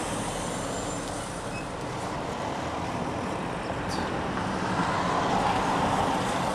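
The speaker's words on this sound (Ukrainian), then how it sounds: "Вон ви бачите, під'їжджає теж маршруточка номер 47" Marshrutka minibus number 47 pulling up on a city street in Zhytomyr, a steady low road rumble with broadband traffic noise building slightly near the end, no talk.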